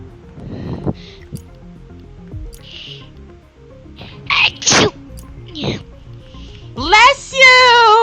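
A single sharp sneeze bursts out amid scattered background game sounds and chatter, close and loud.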